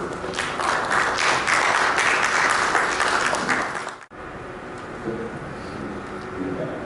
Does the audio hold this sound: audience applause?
yes